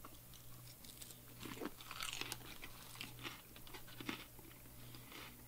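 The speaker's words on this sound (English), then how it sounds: "Am I chewing too loud?" Close, crisp crunching of a chicken lemon Caesar salad being chewed, steady bites with a faint low hum in the background.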